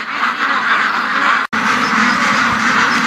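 Ducks at a lake quack steadily and loudly, a dense, continuous chorus close by with a brief cut in the middle.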